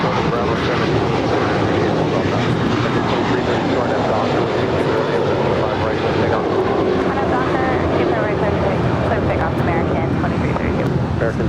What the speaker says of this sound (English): That is American Airlines 1713 departing to Orlando. It's an A321.